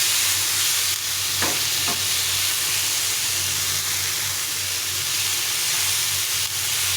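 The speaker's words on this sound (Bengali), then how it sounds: "এভাবে করে সবগুলো একটু ভালো করে ভেজে নিতে হবে।" Chutney ingredients with a fried dried red chilli sizzle loudly in an oiled pan, a constant close hiss with occasional spatula knocks and scrapes as they are stirred, no voices.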